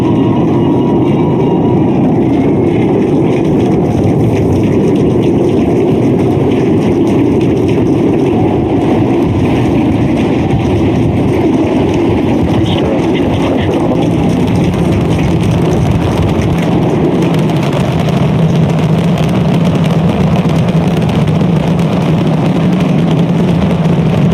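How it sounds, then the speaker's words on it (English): A Starship rocket climbing in flight on its eighth integrated test flight with all 33 Raptor engines firing, a dense, steady broadband roar that rumbles without a break from start to finish. "We are seeing 33 out of 33 Raptor engines ignited."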